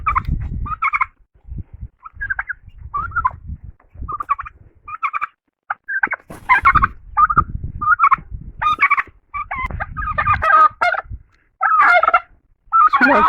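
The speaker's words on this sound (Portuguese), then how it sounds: "Aqui tá o piruzão, ó." A large domestic turkey gobbles repeatedly at close range on a farm at dusk, bursts of rattling calls coming in quick succession alongside other fowl, with no one talking.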